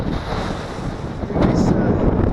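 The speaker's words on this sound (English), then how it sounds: "It's windy." Gusty wind buffets the microphone outdoors on a sailboat cockpit, a steady broadband roar that swells louder in the second half, with water and waves faintly beneath.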